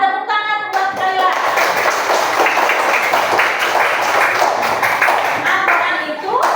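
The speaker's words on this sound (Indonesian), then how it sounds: "Iya, tepuk tangan buat Khalila." Schoolchildren in a Quran-reading class burst into dense, steady applause for a classmate. The clapping fills the whole span at close range, with young voices calling out at the start and end.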